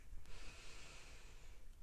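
A single slow inhalation during a guided grounding meditation, soft and close, a faint airy breath that swells and fades over about two seconds with no talking.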